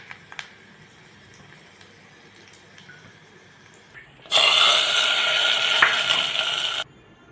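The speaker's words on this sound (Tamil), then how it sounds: "இந்த ஸ்டேஜில் காய்ச்ச மிளகாவை போட்டுக்கலாம்." Dried red chillies hit hot oil for tempering and burst into a loud, dense sizzle that holds steady for about two and a half seconds before cutting off, after quiet clinks beforehand.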